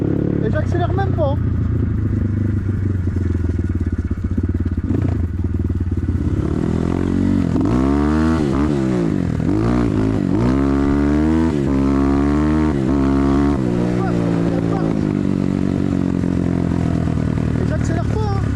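A BTC T18 motorcycle engine running loud and close while riding, with an untuned carburettor, a steady chugging drone that rises and falls as revs change, with rattling clatter mixed in.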